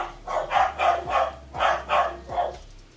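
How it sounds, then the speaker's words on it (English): Several dogs barking indoors in a quick burst of about seven barks in a regular rhythm, moderately loud and close, with no talking over them. "You'll have to just ignore my barking dogs"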